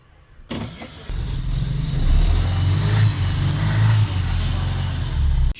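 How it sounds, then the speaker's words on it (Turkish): A car engine cranks and starts on petrol after its fuel hoses were replaced, then settles into a steady, loud idle that stays close and continuous until the end. "Şimdi aracı benzinde çalıştıracağız."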